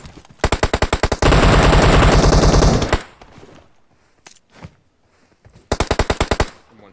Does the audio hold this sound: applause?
no